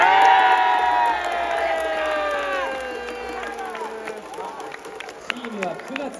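A baseball stadium crowd cheers loudly during a Hanshin hero interview, a broad roar with rising whoops and shouts, layered with a chanting or singing swell. A few voices stand out near the end.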